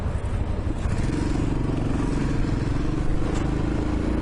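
A Royal Enfield Himalayan motorcycle is throttled hard and accelerates on a road, its engine drone rising over heavy, constant wind rush.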